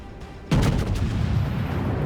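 A heavy naval gun salvo booms from the Scharnhorst's turrets in World of Warships, one sharp loud blast followed by a long rumbling roar that carries on without a break.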